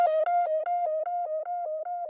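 A chopped, pitched-up sung vocal on the word breathing, stuttering in about ten even repeated slices, smeared with tape-style delay, subtle chorus and a filter rolling off the highs, close and bright with no other sound.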